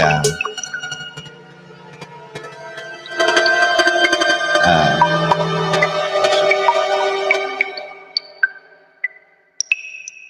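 A modular synth on a particle noise setting makes dripping-water plinks: scattered pitched drops and pings over a wash of dense granular texture that swells mid-clip, then thins to isolated bright drops.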